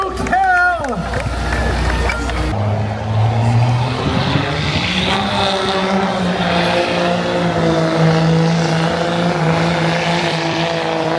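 Diesel engine of a tubular-frame pulling vehicle at an agricultural fair tractor pull, roaring loud and sustained with rising engine tones while an announcer talks over it.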